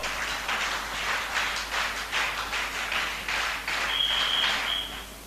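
Scouts applaud after building a human pyramid, a crowd clapping in dense, steady bursts for several seconds, fairly close and continuous, with a faint whistle-like tone partway through.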